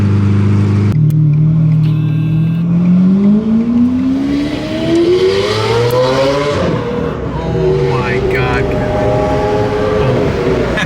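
A Lamborghini Aventador SV engine rumbles loudly nearby, starting with a deep idle and then rising and falling through blips of revving, while people talk excitedly over it.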